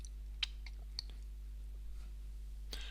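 A few sharp mouse clicks on a login button, the loudest near the start and end with a softer one between, close and crisp over a steady low electrical hum.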